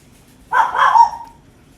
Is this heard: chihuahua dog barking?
yes